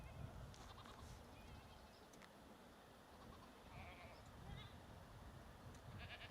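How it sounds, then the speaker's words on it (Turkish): Faint goat bleats sound in the distance over a steady wash of rain and outdoor noise in the Hacer forests, scattered through the stretch. "Arkadan da keçi sesleri."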